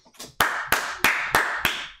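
Hands clap five times in a slow, even rhythm, each sharp crack ringing close and loud with no voices over it.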